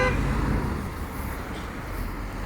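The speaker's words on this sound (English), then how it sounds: "Lots of people hooting." Street traffic in New Parks, Leicester during a roadside protest, with a loud, continuous roar of passing vehicles close by and short car-horn toots mixed in.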